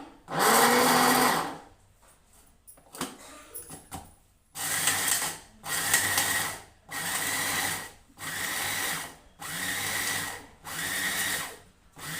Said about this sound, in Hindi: गोंद भी पीस लिया है मैंने।